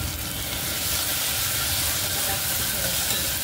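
Fenugreek leaves roasting in a hot pan for methi khichdi give off a steady, even sizzle and hiss that runs unbroken and fairly quiet, with no talk over it.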